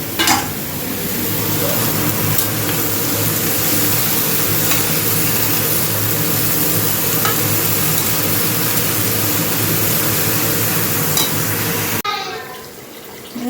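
Bottle gourd curry (lau ghonto) simmers and bubbles in a pan with its own released water, a steady, close, wet sizzling hiss that runs on evenly before cutting off near the end.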